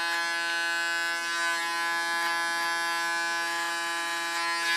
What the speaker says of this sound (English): Use my clipper as a comb.